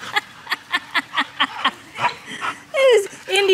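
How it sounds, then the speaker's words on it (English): A husky puppy lets out a quick run of sharp, high little barks, close by, followed by a whimpery yelp, with people talking quietly in the background. "It was Indy barking at Eleanor"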